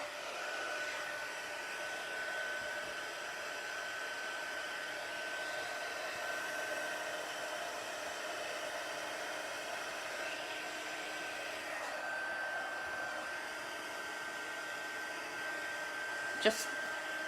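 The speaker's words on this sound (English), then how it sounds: "Okay, I'm going to heat it now" A steady, loud rush of hot air from a heat gun runs throughout without pause, with a brief sharp click near the end.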